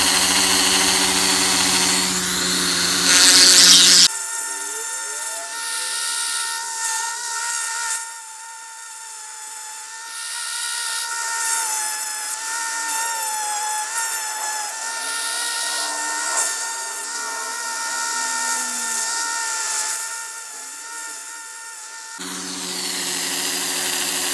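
A small rotary power tool grinds and sands an opal during carving, a sustained whine that holds for about twenty seconds with shifting pitch as the bit presses against the stone, close up and without speech.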